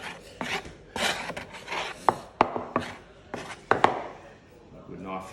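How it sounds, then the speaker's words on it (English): A knife blade scraping sticky dough off a board, a series of short rasping strokes with sharp scratchy peaks, close up and fairly loud. "Just going to use a knife, or you can use a blade of any description, and just scrape the board off"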